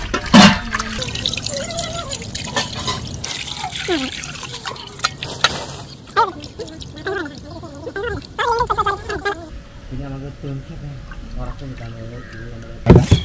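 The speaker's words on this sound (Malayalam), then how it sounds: "അതിനായിട്ട് വെള്ളത്തിലേക്ക് ഇടിയണം. പിന്നെ കഴുകി നന്നായിട്ട് വൃത്തിയാക്കി എടുക്കണം" Prawns being washed in water in a kitchen before making prawn fritters, with sloshing, dripping and splashing close by and a person speaking over much of it.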